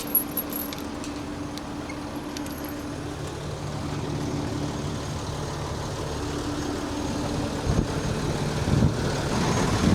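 Farm tractor engine running at a steady idle, a low continuous rumble with a droning hum held throughout, fairly close, with light metallic rattles near the start.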